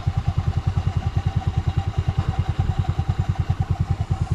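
A motorcycle engine idles steadily and close by in a motorbike parking area at Bani, Pangasinan, its rapid even thumping pulse holding a constant rhythm throughout, with no voices.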